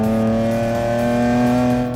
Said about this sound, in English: He has fitted an exhaust cutout, and this is my first time opening it up.